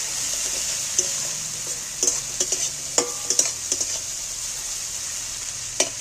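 Garlic paste frying in oil over onions, a constant high sizzle with occasional spoon clicks and stirring knocks against the pan, near and steady, with no talking.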